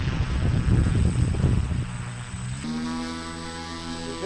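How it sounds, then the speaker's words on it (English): The left-hand motors of a giant model ground effect plane run near a dock. A rough broadband roar settles into a steady, even whir with a sustained tonal drone, with no talking. "We've just got those left-hand motors going."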